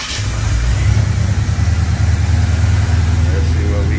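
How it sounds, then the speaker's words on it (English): A GM Performance crate 350 V8 runs at a high fast idle just after a cold start, a loud steady rumble that continues throughout while people talk over it. "that fast idle was crazy high"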